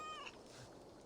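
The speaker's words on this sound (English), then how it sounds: "Hello, cat." A domestic cat gives a single short meow, fairly close and quiet, followed by faint room noise.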